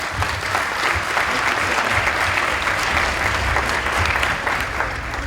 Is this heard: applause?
yes